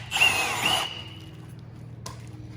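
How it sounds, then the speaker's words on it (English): A power drill boring a 9 mm hole during a Toyota JZX100 Chaser front lip installation, a short high whine lasting under a second before it stops, followed by quiet background and a faint click. "Run a 9 mil hole after that."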